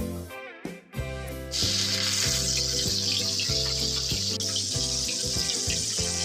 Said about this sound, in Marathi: त्यानंतर मिरच्या तळते